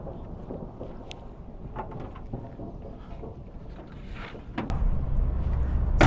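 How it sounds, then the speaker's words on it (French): Wind gusting around a Dacia Sandero Stepway Extreme with a small three-cylinder engine as a storm rises on a test drive: steady broadband rushing that swells louder near the end, with scattered knocks and no talk. "on a la tempête qui est en train de se lever"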